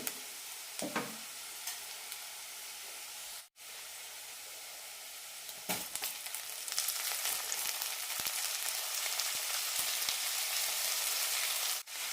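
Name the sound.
rice being roasted in oil for ghee rice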